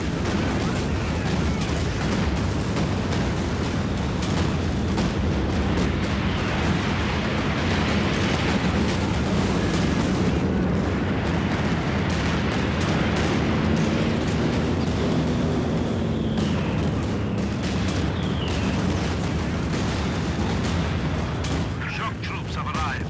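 Artillery barrages and explosions rumble through a tense Company of Heroes 2 battle, booming continuously at loud, steady density with dense low-end roar and crackling bursts, while voices and battlefield chatter run underneath throughout.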